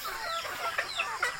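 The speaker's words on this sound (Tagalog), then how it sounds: "Yan, dami pa rin natin manok." Farm chickens clucking nearby in a rural yard, several short, bright clucks in quick uneven succession with no talking.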